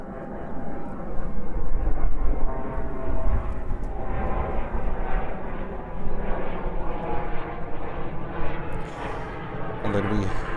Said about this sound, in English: Aeromexico, Boeing 787-9 Dreamliner, 2 years old.